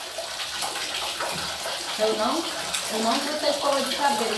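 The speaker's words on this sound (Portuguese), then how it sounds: "Vou ligar aqui o chuveiro para escorrer a água" A shower runs in a bathroom, water spraying steadily as a constant hiss throughout, with someone speaking over it.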